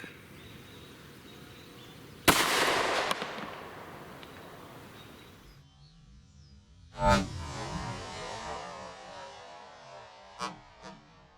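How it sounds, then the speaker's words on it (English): A Glock 29 pistol fires 10mm Gold Dot 200-grain rounds into clear ballistics gel. Two sharp, loud reports ring out with decaying tails, followed by a few smaller, fainter cracks. "I'm gonna start with the Glock 29. We'll put 2 shots from it"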